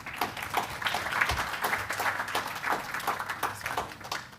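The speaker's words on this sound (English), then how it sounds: "Let's put our hands together" An audience at an international blue carbon and wetlands conference claps, a moderate round of applause with audible individual claps that rises and dips unevenly across a few seconds.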